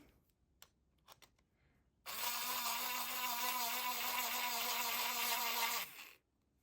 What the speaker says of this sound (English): Take your Dremel again.